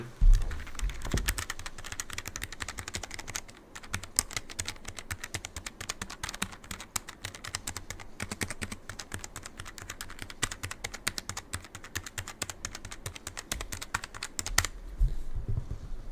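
Continuous fast typing on a Logitech G913 TKL low-profile keyboard fitted with brown switches; dense, close keystrokes clatter steadily for the whole stretch with no speech.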